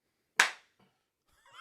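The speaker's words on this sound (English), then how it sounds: "Yeah, claps." A single sharp hand clap rings out close and loud in a quiet indoor room, fading quickly, followed by a faint bit of background noise.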